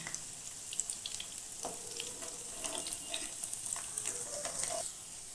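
Chickpea-greens tikki shallow-fry in oil over medium heat with a soft, steady sizzle and small pops, followed by a few light scrapes as they are flipped, all at low volume.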